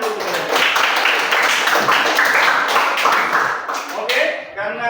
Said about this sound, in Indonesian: Oke, tepuk tangan dulu untuk kalian.